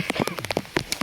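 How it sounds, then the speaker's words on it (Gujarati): Heavy rain falls outdoors during army-style training in a village, a patter of distinct drops hitting close by over a short stretch. "હા વરસાદ વધ્યો જો."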